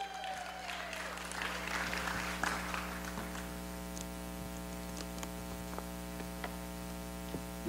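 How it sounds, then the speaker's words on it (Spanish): A church congregation applauds during a Sunday morning service, a faint wash of clapping over a strong steady electrical hum, with scattered sharper claps standing out. "Si le vas a dar un aplauso,"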